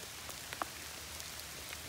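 Light rain patters steadily and faintly around a loaded Surly ECR touring bike outdoors, with a few scattered droplet ticks over a soft, constant background hiss and no voices.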